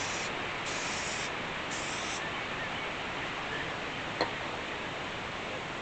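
3M 77 spray adhesive sprayed from an aerosol can onto a door panel insert, a steady close hiss running unbroken through the whole stretch with no voices.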